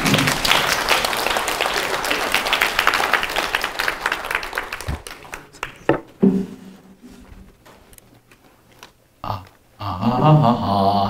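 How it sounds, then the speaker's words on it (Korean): An audience at a Korean Catholic prayer meeting applauds to welcome a priest, dense clapping for several seconds that thins out and fades, followed by quiet room sounds and brief scattered noises. "박수로 맞이해 주시기 바랍니다"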